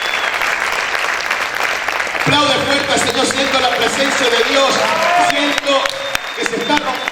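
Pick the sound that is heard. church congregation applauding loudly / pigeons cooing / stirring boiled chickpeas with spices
church congregation applauding loudly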